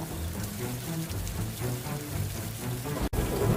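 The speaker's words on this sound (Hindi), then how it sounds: "अचानक आसमान पर काले बादल छा जाते हैं और तेज आंधी के साथ जोरदार बारिश शुरू हो गई।" Heavy rain pours steadily under dark storm clouds with strong wind, a dense continuous wash of sound with no break.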